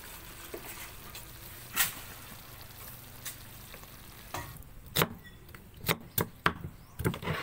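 Mussels and lotus root stir-frying in a pan, a continuous low sizzle punctuated by sharp clacks and scrapes of a utensil against the pan, growing busier toward the end.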